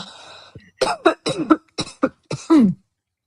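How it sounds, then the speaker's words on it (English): Several coughs from more than one person, a quick burst of short hacking coughs, then a longer rasping one, close by with no talking. "There's a couple people coughing."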